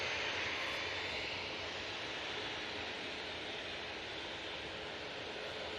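A TUI passenger jet taking off at Manchester Airport gives a faint, distant, steady broadband roar that holds at an even level for several seconds.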